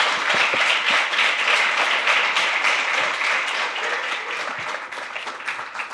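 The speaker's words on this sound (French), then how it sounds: "n'hésitez pas à applaudir nos intervenants aujourd'hui" An audience at an evening tech talk in Montreal applauds the speakers, a steady wash of many hands clapping that stays fairly even before easing slightly toward the end.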